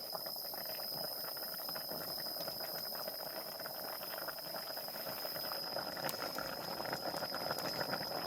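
A pot of bamboo shoot curry bubbles steadily on the boil outdoors, a continuous close simmering hiss with small liquid pops and no talk.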